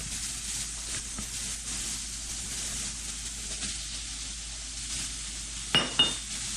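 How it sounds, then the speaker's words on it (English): Mushrooms sizzling in a hot pan, a soft constant hiss with a couple of faint taps and two sharp metallic clinks of a utensil near the end. "Now that that's done, I'm gonna add my mushrooms."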